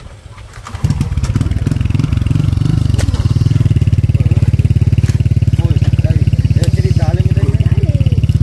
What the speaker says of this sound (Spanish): Ahorita viene bien el moto.